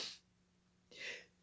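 A single quiet sneeze, a short sharp burst preceded by a brief inhale, with near silence in between.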